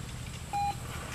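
Manners Minder pager beeper gives one short, clean electronic beep of a fraction of a second over a quiet background hum.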